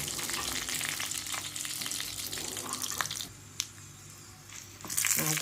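Curry leaves and green chillies spluttering in hot oil for curd rice, a dense crackling sizzle that runs steadily, briefly softens with a couple of sharp pops, then swells again, heard close with no talking.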